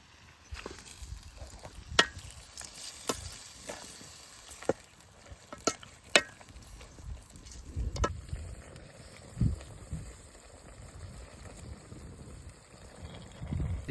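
Chicken for a large batch of gravy frying in a big pan while being stirred, a continuous sizzle broken by repeated sharp scrapes and knocks of the ladle, fairly close.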